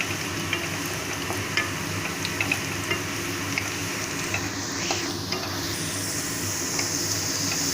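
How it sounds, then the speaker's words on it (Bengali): Onions fry in a pan for a Bengali cauliflower and rohu fish curry, a steady close sizzle with occasional stirring clicks, no voices. "পেঁয়াজটা ভাজা ভাজা হয়ে এসছে"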